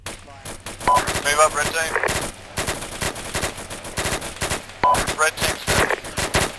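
Rapid bursts of machine gun fire crackle through a military video game firefight, loud and sustained across several volleys, with team members calling out over the shooting.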